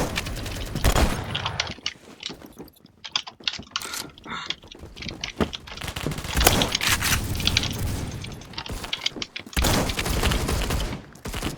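Shotgun blasts ring out in a first-person shooter game, loud booming shots scattered among busy clattering and mechanical game effects, dense and uneven throughout.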